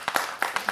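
Brief scattered clapping from a conference audience at a game developer talk, a few quick sharp claps in under a second.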